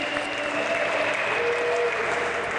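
A crowd at a BMX freestyle national championship applauds steadily for the new national champion, a dense, even wash of clapping that holds throughout without a break.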